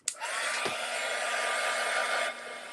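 Heat gun blowing hot air to dry a craft sign, a steady loud whoosh that starts abruptly, runs for about two seconds with a brief bump, then drops away near the end.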